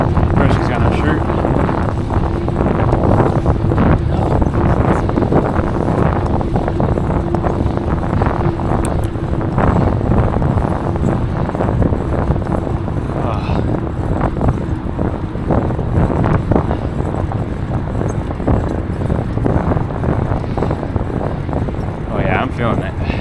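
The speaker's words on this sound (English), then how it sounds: "you've got a very cold wind. And it's blowing right now." Cold wind buffets a microphone while someone bikes through Chicago, a constant loud rumbling roar throughout with a person talking over it.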